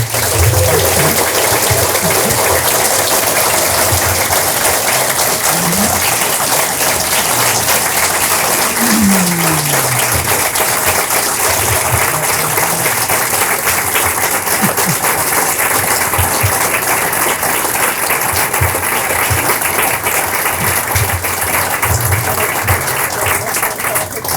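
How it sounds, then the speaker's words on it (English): Audience at a Chamber of Commerce and Farm Bureau farm family event applauding the Mitchell farm family, loud sustained clapping for over twenty seconds with some voices and cheers mixed in. "Let's give these guys a round of applause,"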